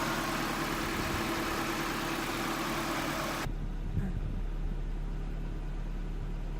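A car engine running on 100% ethanol idles steadily with a low, even drone that changes tone partway through, and no voices are heard.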